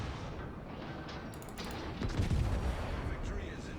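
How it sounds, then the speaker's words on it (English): Secondary guns on a battleship firing in World of Warships, a burst of sharp booming reports around the middle of the clip over a steady rumble of game ambience. "he's shooting at me with his secondaries"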